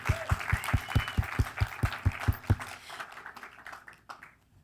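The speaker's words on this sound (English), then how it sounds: "give everybody a round of applause again" Audience at a short-film Q&A applauding the filmmakers: a run of loud, evenly spaced claps that fade out into scattered lighter claps and room noise.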